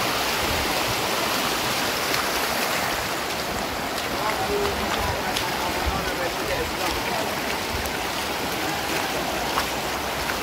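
A river runs through rocky ground with a steady, loud rushing wash that holds for the whole stretch. It is close by and has no breaks.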